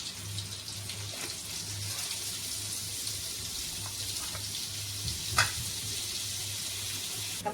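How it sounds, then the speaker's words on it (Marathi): Butter melts and sizzles in a pan while pav bhaji is cooked, a faint steady hiss and soft crackle running throughout with one brief clink, low in level and with no talk over it. "बटर पण त्याच्यात पूर्ण विरघळलंय"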